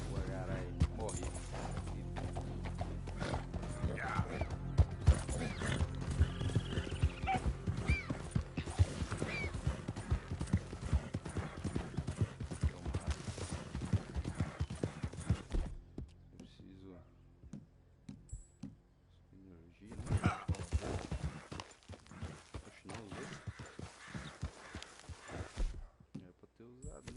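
Horse hooves clip-clop at a steady walking pace in the video game Red Dead Redemption 2, mixed with other game sounds and a voice talking over them, then briefly fading before picking up again.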